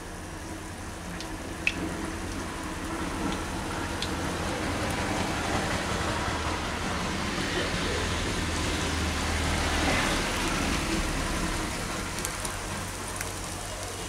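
Battered flat bean pods sizzle steadily in hot oil, a dense, continuous crackle and hiss that holds level throughout with no talking.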